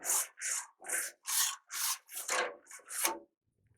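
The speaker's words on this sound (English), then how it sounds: "Always clean your grates." A brush rasps back and forth across the grill grates of a BBQ pit used for Texas-style quail, eight firm, evenly spaced scrubbing strokes close up, then stopping.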